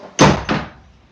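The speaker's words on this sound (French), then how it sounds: "quelqu'un rentre et pousse la porte un peu trop fort" A door pushed open too hard, giving two quick loud thuds close by, the second softer, then fading.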